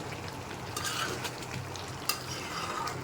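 Mango pickle cooking with melted sugar in a pan is stirred continuously, a soft sizzling bubble with scraping strokes of the spoon and one sharp clink, close and steady throughout.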